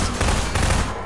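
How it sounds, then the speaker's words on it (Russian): Rapid pistol shots from Half-Life 2 crack out in a dense, loud burst of overlapping reports that fills the whole short moment. "Зачем я стреляю с этого пистолета, если у меня есть"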